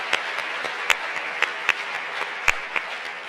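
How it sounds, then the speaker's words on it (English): Sparse, scattered clapping from a reunion audience, with a few loud individual claps popping out over a soft, continuous patter of hands. "We can clap. We can clap."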